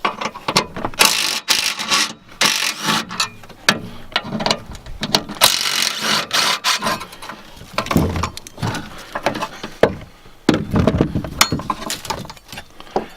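A ratchet wrench removes two 10mm bolts from the stock air box bracket on a Ford Super Duty truck. Close, rapid bursts of clicking come in irregular runs, with metallic clinks between them.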